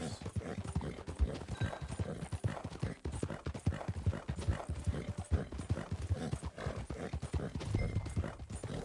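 Steady clip-clop of horse hooves at a walking rhythm, close and loud, with a horse whinnying in the mix, in the video game Red Dead Redemption 2.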